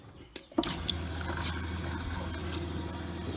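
A small camper van sink faucet fed by a low-flow pump runs after a faint click and a knock, giving a steady, quiet trickle with a low pump hum beneath.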